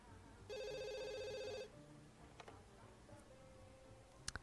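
A telephone in The Sims 2 gives one bright electronic ring, a buzzy warbling tone lasting about a second. Quiet game ambience and faint ticks follow.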